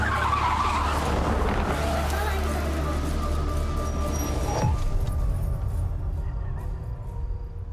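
A car skids to a sudden stop on a road, a broad tyre scrape and engine roar sweeping through, loud and close, fading after about five seconds into steady engine rumble.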